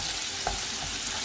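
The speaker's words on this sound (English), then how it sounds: "That's half an onion into the oil. Give that mix to sizzle." Half an onion sizzles in hot oil in a pan while cooking a spicy lamb stew, a brief steady frying hiss close by with no talking.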